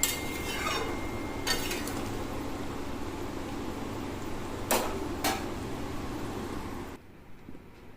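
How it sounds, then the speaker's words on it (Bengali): Shol fish curry being stirred in a cooking pot: a few clinks of a metal utensil against the pot over a steady background hiss, near and moderately loud, ending in quiet. "তো দেখো মাঝে একটু নাড়িয়ে দিচ্ছি।"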